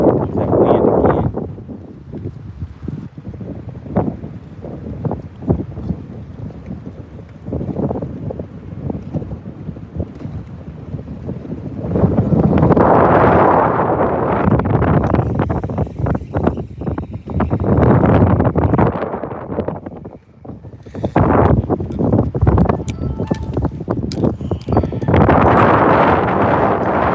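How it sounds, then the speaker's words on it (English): Strong gusty wind sweeps across a lake around a bass fishing boat, buffeting the microphone in heavy rumbling surges that rise and fall, with brief lulls between the louder blasts. "now the wind is picking up big time"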